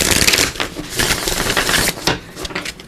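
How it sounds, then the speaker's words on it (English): A deck of tarot cards is shuffled close up, giving a dense run of quick papery riffles and flicks that stay loud throughout, with no talking. "Just give this a quick shuffle"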